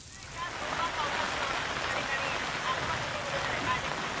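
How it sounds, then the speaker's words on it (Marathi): Heavy monsoon rain driven by strong wind pours down at Marine Drive in Mumbai, a steady, dense hiss and roar of water with no break across the whole stretch. "सध्या मरीन ड्राईव्ह परिसरामध्ये सोसाट्याच्या वाऱ्यासह मुसळधार पाऊस पडतोय"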